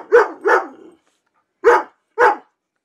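A dog barks nearby, loud and sharp: two quick barks, a short silence, then two more.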